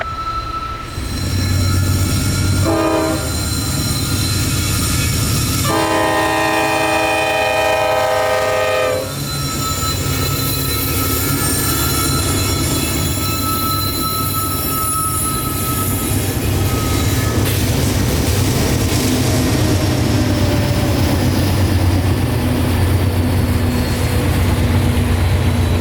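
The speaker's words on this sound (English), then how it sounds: "these three CSX AC-44s had to work their hardest to get this train up the hill" A northbound CSX freight train pulled by three AC-44 locomotives labors up a hill near Lakeland Junction, Florida. Heavy engine rumble runs throughout, a loud horn blast sounds early, and wheel squeal rises later as the train passes close by.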